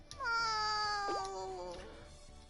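A cat in the Nekopara video game gives one long, close, loud meow that slides downward in pitch and trails off. No purring stands out.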